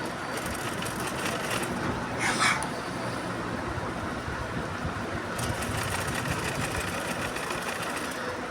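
A sewing machine stitching a blouse hums steadily and continuously throughout, close and fairly loud, with a brief higher whirring burst partway through and no talking.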